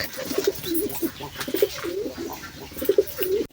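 Pigeons in a loft, including a local male, cooing in repeated low throaty phrases at close range, with faint background noise between calls.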